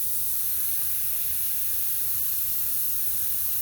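A steady, even hiss of an airbrush spraying paint onto a shark runs without pause, close and fairly soft, with no voices.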